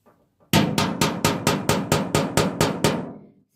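Small pilot holes are punched into wood during wooden house construction: a rapid, even series of about ten sharp, loud knocks, close by, with no talk.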